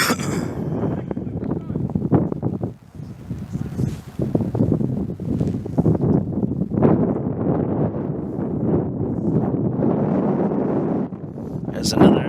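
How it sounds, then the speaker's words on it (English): Gusty wind buffets the microphone at an outdoor amateur soccer match, loud rumbling bursts rising and falling over several seconds with a voice talking underneath. "There's another one of those wind gusts."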